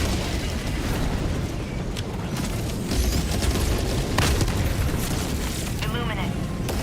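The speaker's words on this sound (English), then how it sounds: "Throwing grenade!" A grenade explosion in a video game, a loud booming blast heard under dense battle noise and game radio voices.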